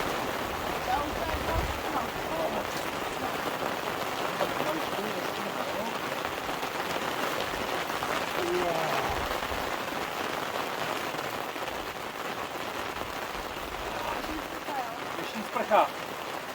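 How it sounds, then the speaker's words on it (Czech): Heavy cloudburst rain pouring outdoors onto a gazebo canopy, a dense steady roar of drops throughout with a few louder splats, while people talk over it. "No tak se nám z toho vyklubala pěkná průtrž mračen."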